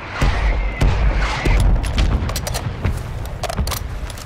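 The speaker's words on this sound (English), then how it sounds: "Mortar strike on the way." Mortar strike explosions in Call of Duty Warzone, a loud rolling barrage of heavy booms and sharp impacts hitting in quick irregular succession, with rapid gunfire crackling between them.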